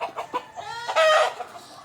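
Country chickens at a coop opened in the early morning give a few short clucks, then one louder drawn-out squawk. The birds are close and clear, with no talk.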